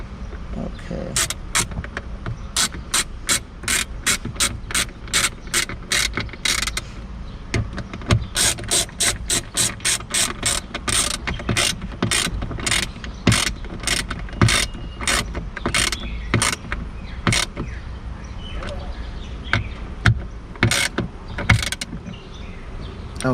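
A ratchet tightens bolts while a Tesla Model 3 electric tailgate is installed, with long runs of fast, loud, close clicks in repeated strokes and brief pauses between bursts.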